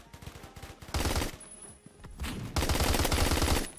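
Automatic gunfire in the video game Phantom Forces rattles out in loud, rapid bursts, one short volley then two longer sustained streams close up.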